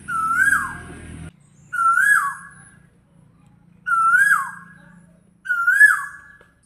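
Birds call around a house in the Assam morning: four loud, clear whistled calls, each sliding downward, repeat at regular intervals with short quiet gaps between them.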